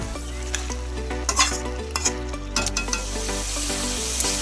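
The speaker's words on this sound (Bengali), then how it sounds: "পাঁচ মিনিট হয়ে গেলে ঢাকনাটা খুলে আরেকটু ভালোভাবে নাড়াচাড়া করে কষিয়ে নিচ্ছি" Desi chicken curry being sautéed and stirred in a pan, with a steady sizzle, clinking and scraping of a utensil against the metal, and a constant background hum.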